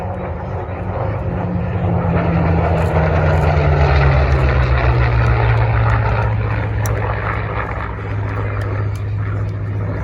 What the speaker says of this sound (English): Let's get some good pictures of the Corsair as it does its banana pass.